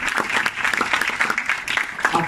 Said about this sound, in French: Oh, c'est l'acclamation bien-aimée.